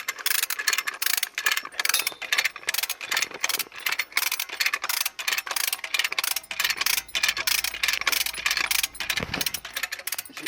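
A homemade tree and post puller works to draw a small tree and its roots out of the ground, giving a steady stream of close mechanical clanking, ratcheting and metallic rattling that keeps going for about ten seconds.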